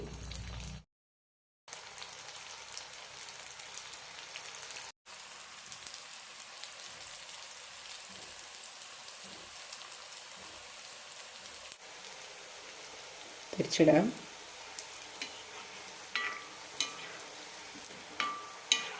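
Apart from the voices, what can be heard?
frying honey candy (thaen mittayi) dough balls in oil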